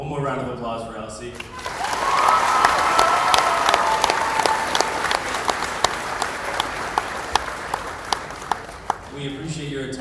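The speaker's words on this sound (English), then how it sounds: "One more round of applause for Elsie." High school senior awards night audience applauding for Elsie, a loud sustained crowd clapping that swells, holds, then thins into scattered individual claps as a voice returns at the end.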